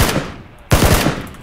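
A rapid burst of video game gunfire cracks out suddenly after a quiet moment, loud and close.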